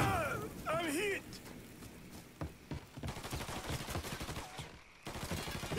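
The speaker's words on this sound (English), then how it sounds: "He's shooting the shit out of me!" Gunfire crackles in bursts through a Mafia III firefight, sharp repeated shots scattered across the scene while a voice shouts over the action.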